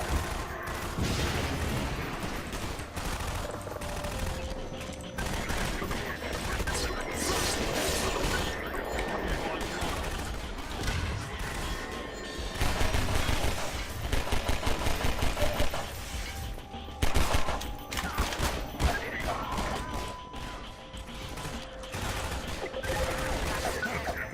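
Gunfire in a game, with rapid bursts of shots and crashing impacts packed densely over a long stretch, loud and continuous with louder volleys near the end.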